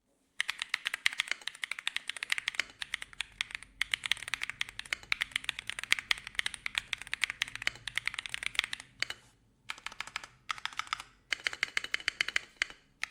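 Rapid, crisp clicking of a mechanical keyboard, typed in steady bursts with a few short pauses, close to the microphone.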